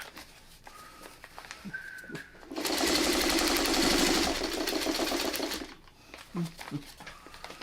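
Domestic sewing machine stitching a quilt block for a New York Beauty pattern, running in one steady burst of about three seconds, close and loud, with quiet handling noises and short pauses on either side.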